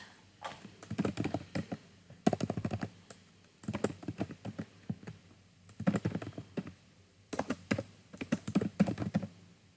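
Bursts of rapid keyboard typing, crisp clicking keystrokes in quick clusters separated by short pauses, close and fairly quiet.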